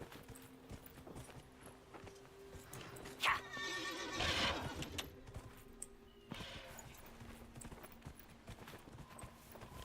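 Horse neighing in Skyrim, a sharp whinny standing out over soft clip-clop hoofbeats and a low game background, fairly quiet overall.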